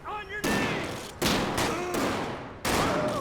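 Automatic gunfire spraying in GTA 5 during a police special operations mod, several loud sustained bursts of rapid shots separated by short gaps, with a voice heard briefly before the first burst.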